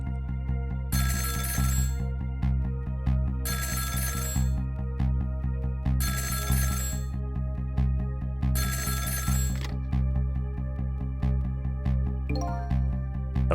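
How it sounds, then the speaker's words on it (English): A telephone rings in the video game Ghost Trick: four loud, evenly spaced bursts of trilling bell over a steady music bed, ending with a short chime and no speech. "the phone rang."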